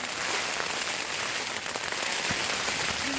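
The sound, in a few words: rain and storm on a tent at night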